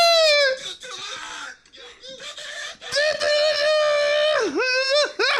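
A child screams in a loud, high, wavering wail in a played video clip, sustained and near, with pitch swooping up and down and brief breaks for breath.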